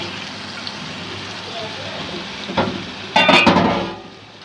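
Dried fish and potato being sautéed together in a pan for shutki bhuna, a soft steady sizzle with a few brief stirring scrapes near the end, nearby and moderately loud.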